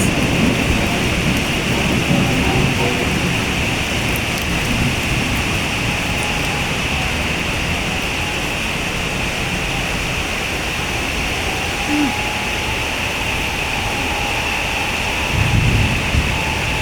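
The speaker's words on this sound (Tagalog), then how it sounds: "pagka yung malakas ang ulan dito guys" Heavy rain with thunder: a thick, continuous downpour hisses loudly and steadily, low rumbling rolls beneath it and a deeper swell rises near the end, with no voices heard.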